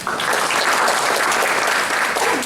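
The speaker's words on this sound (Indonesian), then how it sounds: "Tepuk tangan buat Tuhan." A church congregation applauds together, a dense, loud and even wash of clapping that fills the whole stretch without a break.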